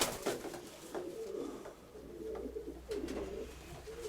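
Pigeons in a pigeon keeper's loft coo softly in repeated low, throaty calls, fairly near, with quiet rustling and background noise between them.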